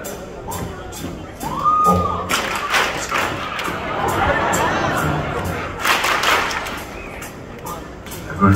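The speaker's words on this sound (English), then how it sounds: "Okay, copy my clapping." Concert crowd at the Hollywood Palladium clapping along in rhythm before a show, a dense mass of cheering and chatter with sharp handclaps and a brief shout rising over it.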